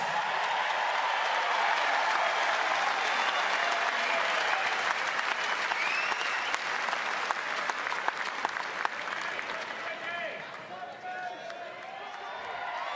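A crowd at a Perth Wildcats jersey retirement ceremony for Damian Martin gives a big, sustained round of applause, loud and continuous with cheering mixed in, thinning slightly toward the end.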